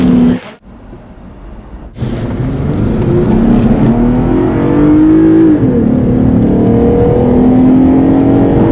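A 2014 Lexus IS 250 Sport driving on a wet track, its engine droning and rising in pitch as it accelerates, with a loud continuous tire and road roar close by after a brief cut near the start.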